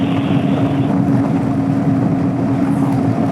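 A motor scooter's engine is held at wide open throttle on a Texas highway run, a steady, loud, close drone with a constant pitched whine and wind rushing over the microphone throughout.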